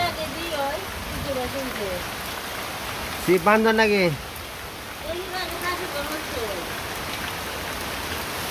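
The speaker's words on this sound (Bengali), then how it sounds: "চতুর দিকে দেখেন বৃষ্টি নামছে।" Steady rain falls outdoors as an even, continuous hiss throughout, with voices talking over it and a louder shout partway through.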